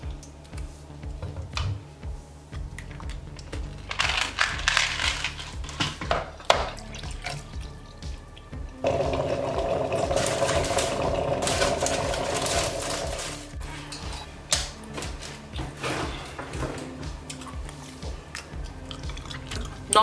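Lukewarm water poured while preparing a drink, a steady trickling flow in the middle of the clip with some drips and clinks around it, close and moderately loud.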